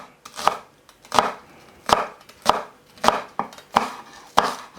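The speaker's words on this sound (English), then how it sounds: "I'm just going to chop the roots off, and I'm just going to thinly slice them." Knife thinly slicing a vegetable on a cutting board while preparing a garnish for Chinese soy sauce chicken, seven crisp, close chops at an even, steady pace with no talk.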